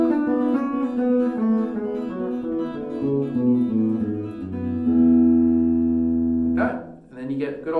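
Plucked guitar notes rolling quickly in a steady banjo-style forward roll, descending through an E mixolydian scale, then a brief strum near the end.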